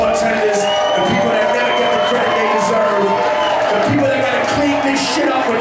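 Live concert crowd in a Pawtucket club cheering and whooping for the sound man and bartenders at an Immortal Technique show, a loud, steady roar of many voices with scattered shouts throughout.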